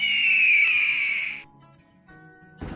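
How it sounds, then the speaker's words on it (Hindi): Kite, a bird of prey, giving a long drawn-out high whistling call that holds steady for over a second before fading, followed by faint background noise and a short burst at the end. "ये आवाज़ चील की है"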